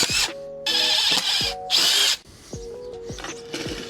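A power drill drilling into a wall whirs in several short high-pitched bursts, with brief pauses and clunks in between.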